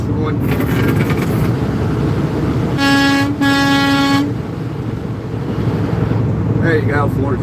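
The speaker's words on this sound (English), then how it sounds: "Hear the toot toot." Truck horn on a highway giving two long, loud toots in quick succession, heard over steady wind and road roar from a moving vehicle, with a few higher horn blasts further off near the end.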